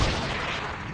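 Rocket engines firing in Kerbal Space Program, a loud, steady, dense roar sustained throughout without pause.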